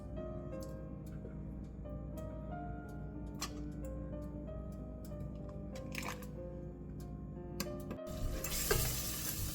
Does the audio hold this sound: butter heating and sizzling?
yes